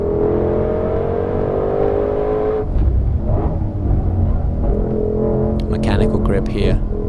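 A 2020 Ford Mustang Shelby GT500 at speed on a track lap, its engine roaring loud and steady with a shifting drone as the car carries through a fast corner.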